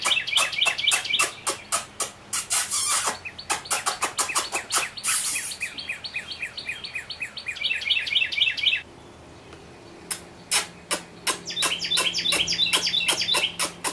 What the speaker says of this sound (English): Carolina Wren, as diminutive as it is, being one of the smallest birds on our marsh, has one of the most beautiful sounding song